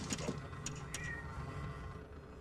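A cat in the film Alien gives a short, faint meow amid a dense, noisy movie soundtrack, with no voices heard over it.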